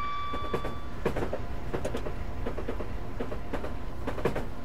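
A train rolls past in the Train Simulator 2013 video game, steady loud rumble with repeated clickety-clack wheel beats and metallic rattles throughout, no talking.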